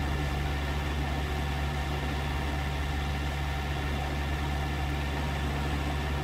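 Tractor engine idling in Landwirtschafts-Simulator 19, a constant low mechanical drone with a steady hum and no talking.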